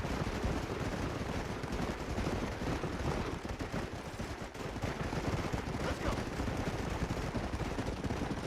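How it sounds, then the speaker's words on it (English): Dense, continuous gunfire in the video game Red Dead Redemption crackles with rapid bursts and heavy thuds of distant explosions blending into a constant battle roar. "by the sounds of all that gunfire and explosions, Dutch knows we're coming"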